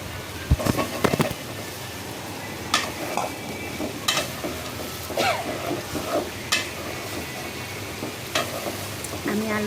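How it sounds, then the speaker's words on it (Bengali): Potatoes and broiler chicken sauté in a pan with spices, giving a steady sizzle broken by scraping stirs and sharp clinks of the spoon against the pan. The cooking sounds close and fairly quiet, with no talking. "আমি আলুটা ভালো করে আলুটা কষাইলাম, আলুটা দিয়ে কষাচ্ছি"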